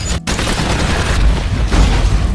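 An explosion and a volley of gunfire in a zombie action film, loud and continuous, with booming low rumble and rapid bursts after a brief cut in the sound.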